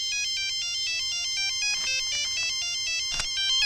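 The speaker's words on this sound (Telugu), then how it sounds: "నీ దగ్గర సెల్ ఫోన్ ఉందా? ఏ ఫోన్ వస్తుందా?" Cell phone ringtone in a Telugu movie scene, a bright looping electronic melody of rapid repeated notes playing loudly and steadily with no talking.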